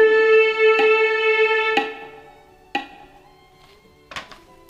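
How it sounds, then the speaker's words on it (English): A sustained pitched tone held for two beats while metronome clicks tick steadily, four sharp clicks in all, the tone fading away partway through and the later clicks sounding almost alone. "And the half note is held for 2 beats."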